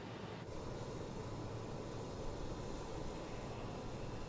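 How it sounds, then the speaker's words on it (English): Simulated turbofan of an RJ100 airliner spooling up during engine start in Microsoft Flight Simulator, a steady, loud broadband roar with a high whine that holds evenly throughout with no talk. "That's then the similar kind of thing of putting the fuel control lever to the run position, and we monitor the engine start."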